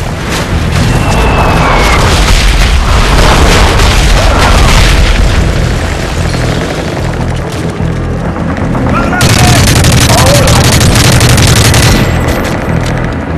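Gunship airstrike fire in the Modern Warfare 3 video game: loud, continuous heavy booms and rapid cannon bursts rumbling throughout, swelling again near the end, with radio voices partly under the barrage.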